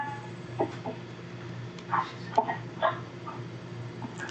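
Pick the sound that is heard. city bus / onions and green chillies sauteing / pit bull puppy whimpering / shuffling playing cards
pit bull puppy whimpering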